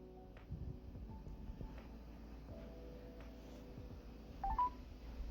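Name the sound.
telephone dialing tones on speakerphone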